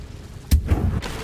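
Incendio fire spell cast in Hogwarts Legacy, a sharp whooshing burst with a low thud, followed by a brief rumbling tail and a second fainter puff.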